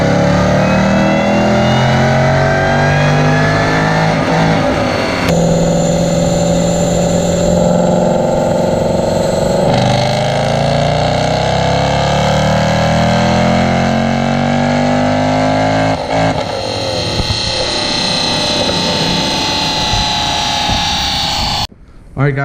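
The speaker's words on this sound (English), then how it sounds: "And I decided to put my car on the dyno." A supercharged 2016 Mustang roars loudly on a dyno, its engine pitch climbing through several long sweeping pulls with brief drops between them, close and dominant, with some voices mixed in.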